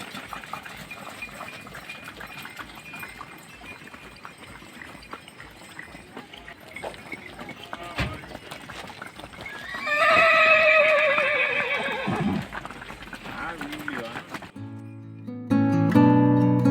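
Horses on a mountain road between Naran and Skardu near Batakundi: steady clip-clop of hooves with a loud whinny midway, outdoors with background noise and a brief musical passage near the end.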